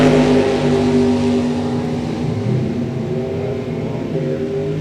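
Drag strip launch of a 1969 Mustang Mach 1 and a 1957 Corvette, heard as a loud, sustained, droning engine roar with layered tones that stays steady and close throughout.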